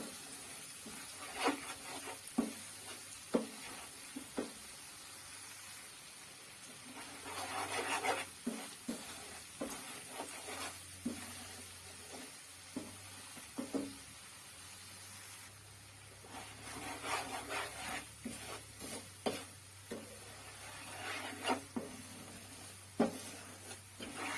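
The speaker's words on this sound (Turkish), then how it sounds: "biraz irmiği kavurdum" Semolina being roasted in a pan for walnut and grape-molasses irmik helvası, with a spoon stirring in irregular scraping strokes over a faint sizzle, close and moderately quiet, continuing steadily.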